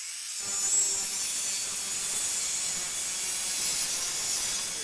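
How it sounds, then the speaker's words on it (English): A chop saw cuts slowly through aluminum bifold closet door track, giving a steady, sustained grinding rasp that sets in after a brief quiet start and holds close and fairly loud throughout. "you want to cut your aluminum track on your chop saw, go really slow because you're cutting metal"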